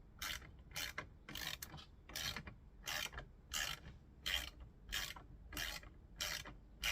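A hand ratchet loosens a bolt during a car amplifier and subwoofer install in a Buick Regal. About ten quick rasping ratchet bursts come in a steady back-and-forth rhythm, close and alone.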